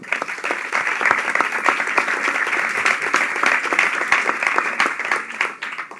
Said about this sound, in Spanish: le debemos dar otro aplauso para agradecimiento de su esfuerzo